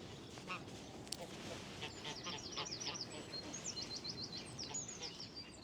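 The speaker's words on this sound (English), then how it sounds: "Farmyard geese" Farmyard geese honking and calling in a repeated series of short, fairly close calls over steady outdoor background noise, with a voice talking underneath.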